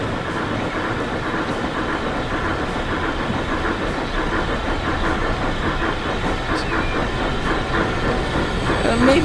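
A train runs along the rails in the railway simulation game Transport Fever 2, a continuous loud rumble with rhythmic clickety-clack and a faint hiss throughout.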